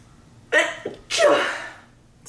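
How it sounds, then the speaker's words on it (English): A person sneezes close up: a short sharp intake and burst, then a brief pause before a louder, longer sneeze that trails off, in an otherwise quiet room. "Hold on a minute, I have to sneeze."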